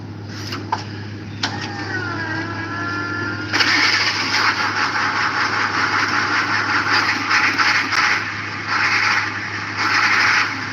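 A Ford 7.3-liter IDI non-turbo diesel is cranked over with a rising starter whine, then catches and settles into a loud, steady, clattering idle close by, with no talk.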